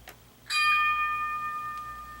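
A single bright strike of the sound-decoder gong bell on an HO scale Bowser New Orleans streetcar model rings out and sustains, its metallic tone slowly fading over a couple of seconds.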